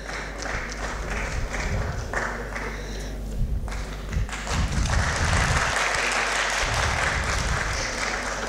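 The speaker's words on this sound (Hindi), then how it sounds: "आपकी तालियों की ऊर्जा बराबर बनी रहनी चाहिए" A crowd applauds at a Sanskrit film festival talk show, a sustained dense clatter of clapping with thumps and a rise in intensity midway.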